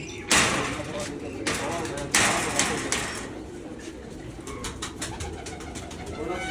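Breeding pigeons, including a newly paired couple, coo softly in the background while people talk, with a couple of sharp knocks or thumps breaking through near the start.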